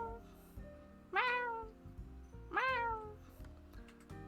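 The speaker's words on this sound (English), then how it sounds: "That's what my brother's cat sounds like." A house cat gives two clear, drawn-out meows about a second and a half apart, fairly close and soft over faint background noise.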